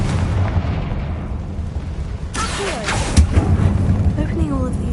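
A Confringo blast spell in Hogwarts Legacy erupts as a loud, rumbling explosion that fills the scene, with a sharper burst midway and continuous booming debris noise afterward.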